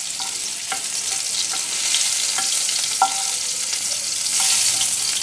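Chopped tomatoes dry roasting in a pan for a spinach and peanut pesto pasta, giving a steady, fairly loud sizzle broken by a few brief scraping stirs, with no voices.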